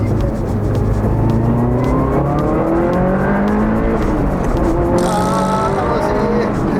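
A worn Subaru Impreza GC8 with a high-mileage EJ engine revs hard under acceleration, a loud continuous rising engine note with gear changes and wind noise, while people talk over it inside the car.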